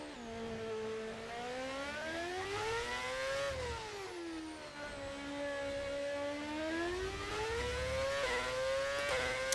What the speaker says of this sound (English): What engine sound is that? We're using V8s.